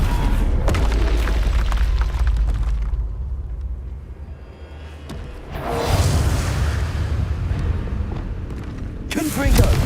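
Spell explosions cast in Hogwarts Legacy gameplay: loud booming blasts and bursts, with a heavy burst early, a quieter lull, then another powerful eruption and a final sharp burst near the end, with voices nearby.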